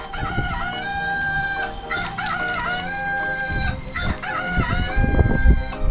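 A rooster crows repeatedly, loud and close, with clucking fowl around it and no other sounds on top.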